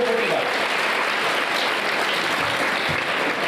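A school-event audience gives loud, sustained applause in a hall, dense clapping holding steady from start to finish.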